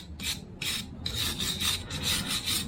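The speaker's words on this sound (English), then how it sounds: "Take your wire brush" A wire brush scrubs the mating surfaces of a tractor axle, giving close, rasping strokes in a steady back-and-forth rhythm of about five or six scrapes, with no talking.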